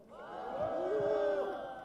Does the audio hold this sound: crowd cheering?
yes